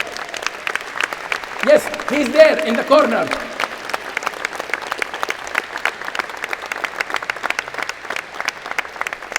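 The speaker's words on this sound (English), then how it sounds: "Let's give him a big round of applause." Convocation crowd at a College of Engineering & Computer Science ceremony applauding a semi-retiring program director, steady sustained clapping throughout with a brief spoken remark near the start.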